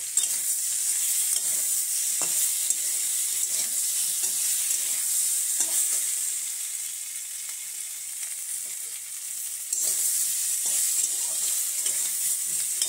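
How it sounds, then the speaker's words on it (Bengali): Ginger paste sizzles and is stirred steadily in a hot pan while cooking a small-fish curry, a continuous close frying hiss with scraping stirs throughout and a brief softer dip midway. "দিয়ে দিচ্ছি কিছুটা আদা বাটা, একদম অল্প পরিমাণে দিয়ে একটু কষবো।"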